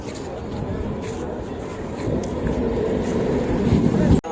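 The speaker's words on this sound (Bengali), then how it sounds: "আর ট্রেন আসছে, চলো সেটা তোমাদেরকে দেখাই।" A train approaches on a single-line railway at Bhabla station, its low rumble building steadily louder beneath a person talking nearby.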